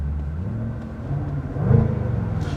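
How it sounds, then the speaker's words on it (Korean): Jaguar F-Pace SVR with a 5000cc supercharged V8, its deep exhaust burbling at idle then swelling briefly into a louder rev before settling, close by and alone. "이 배기구 버튼을 한번 눌러주게 되면은 소리가 한층 더 저음으로"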